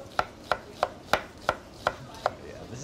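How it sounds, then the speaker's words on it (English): A knife slices an onion on a cutting board in a test kitchen, giving seven evenly spaced, crisp cuts close by in a steady rhythm, with no talk. "And then you're gonna start just slicing."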